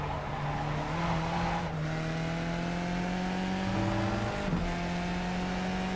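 A race car engine in the iRacing sim holds a steady high drone, with pitch shifting down at two gear changes and a tire squeal, loud and continuous without speech.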